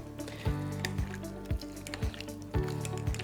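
Potatoes being mashed with heated milk and butter, a wet squishing and squelching repeated in a steady rhythm of about five firm presses, close and fairly quiet.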